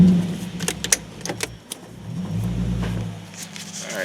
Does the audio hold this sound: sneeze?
no